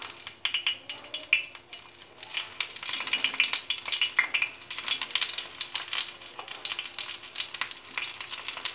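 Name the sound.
brinjal pieces frying in oil in a pan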